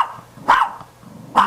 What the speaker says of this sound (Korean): 계속 짖잖아.